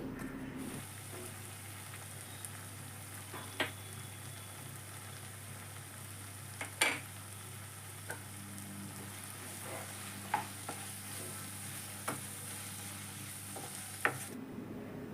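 Tomato and okra curry stirred with a ladle in a pan, a steady low sizzle under scattered scraping clicks from the ladle, close and fairly quiet with no talking.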